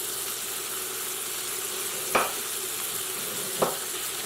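Fish sears steadily in a hot pan, a continuous sizzle with no voices, broken by two brief louder crackles or clinks.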